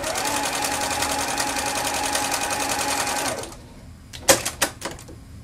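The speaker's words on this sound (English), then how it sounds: "You put the wrong sides together and sew about 1/8 of an inch from the edge." A sewing machine runs a French seam on two pieces of scrap fabric, a fast, steady motor whir that stops after about three seconds, followed by a few sharp clicks and knocks, close and loud.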